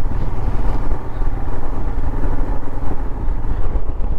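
Four motorcycles riding in single file along a tree-shaded road between Takhdah and Dawaipani, their engines blending into a steady, close, continuous drone with no talk over it.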